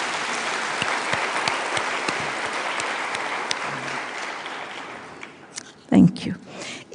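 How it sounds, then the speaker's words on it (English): Sustained applause from a graduation ceremony audience, dense and steady for about five seconds before fading, followed by a few nearby voices and shuffling sounds. "Let's clap for you"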